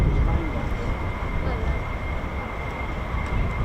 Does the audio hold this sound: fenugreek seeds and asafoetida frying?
no